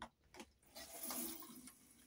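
Water running from a bathroom tap in a short, quiet burst, with a soft splashing hiss that swells and fades over about two seconds.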